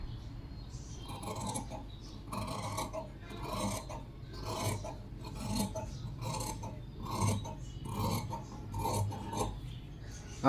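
Scissors cut through princess blouse fabric in a steady series of rasping snips, repeating about twice a second, close and fairly quiet.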